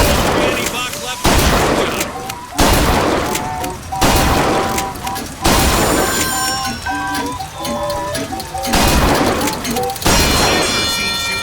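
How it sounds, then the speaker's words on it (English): Gunfire in the BioShock Infinite shooter, loud repeated volleys breaking out in about eight bursts with brief gaps between them, mixed with shattering crashes and ringing musical tones. "Never seen shooting like that."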